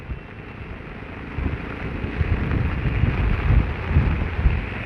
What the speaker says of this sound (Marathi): तर गाईज जो पाऊस परत आलाय,